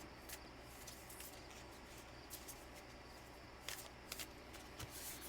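Cards are shuffled softly, giving faint scattered clicks and riffles over a quiet background hiss, with no voices.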